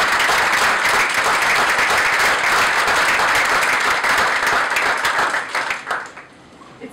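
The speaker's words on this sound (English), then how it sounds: "Let's give one last round of applause for them." An audience at a poetry award event claps for the readers, a dense, loud wash of applause that holds steady before thinning out and fading near the end, with a brief voice as it dies down.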